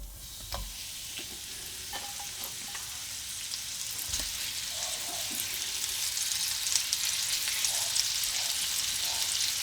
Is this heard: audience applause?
no